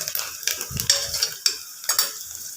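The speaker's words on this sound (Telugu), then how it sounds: "అండ్ ఆనియన్స్, కరివేపాకు ఆయిల్లో బాగా వేగనివ్వాలి." Onions and curry leaves fry over high flame in oil, giving a soft sizzle under repeated scraping strokes of a spoon against the pan, a few sharp clinks standing out.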